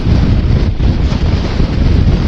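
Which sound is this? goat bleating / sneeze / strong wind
strong wind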